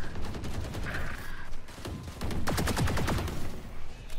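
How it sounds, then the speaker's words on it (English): Gunfire in the shooter game Valorant during a deathmatch, a busy stretch of rapid shots and bursts that stays loud and dense throughout. "I thought that was the shotgun with the right click."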